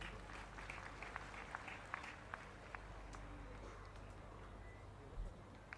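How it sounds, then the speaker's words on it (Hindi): Applause at a religious gathering in Kaithal, a steady crowd clapping with scattered sharper claps standing out, moderately distant and continuous. "ताली मारो।"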